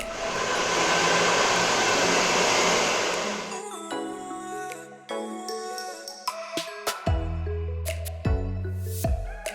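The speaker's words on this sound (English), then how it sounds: "We will blow dry this and finish this with texturizing." Hair dryer blow-drying a freshly cut layered bob, roaring loudly for about three seconds, then cutting off into clicks, rustling and musical background tones.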